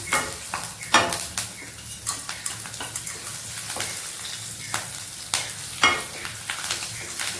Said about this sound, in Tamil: கடுகு பொரிஞ்சிடுச்சு. கடலைப்பருப்பு, உளுத்தம்பருப்பு, பச்சை மிளகாய், இஞ்சி எல்லாமே ஒன்றா போட்டோம்.